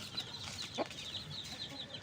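Backyard chickens clucking close by, a steady run of soft repeated clucks and squawks with a couple of sharper calls, no talking.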